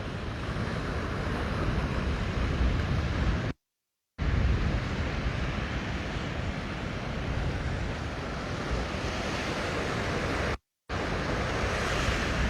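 Waves breaking at Lanikai Beach on Oahu, Hawaii, at sunrise: a continuous broad rushing surf with wind buffeting the microphone, cut by two brief moments of total silence.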